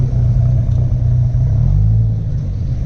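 A first-generation Dodge Viper at a drive festival runs down a drag strip, a loud, steady low engine rumble that swells slightly toward the middle, heard alone without talking.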